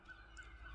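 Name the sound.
birds outside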